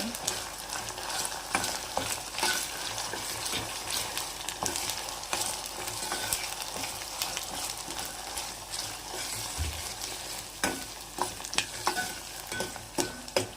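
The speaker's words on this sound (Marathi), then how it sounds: "कच्चापणा गेला पाहिजे आलं लसूण पेस्ट" Ginger garlic paste frying in a pan while prawn biryani is prepared, a continuous close sizzle with scraping stir strokes throughout and no voices.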